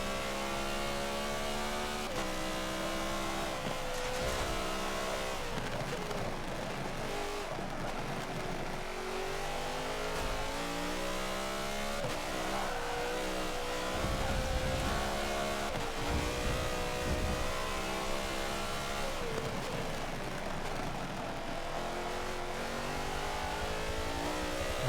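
Race car engine in the Forza 7 video game during an endurance race, roaring loud and continuous with repeated revving as gears shift up and down through corners.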